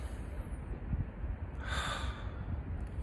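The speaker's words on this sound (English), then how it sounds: "it's actually better to do a longer exhale, so deep inhale" A person takes a slow, deep breath during a calming breathing exercise, ending in a long, audible exhale that is close to the microphone, with no talking.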